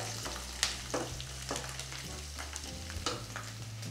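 Garlic fries in hot oil for a snakehead murrel fish curry, a steady close sizzle broken by regular scraping strokes of a stirring spoon against the pan.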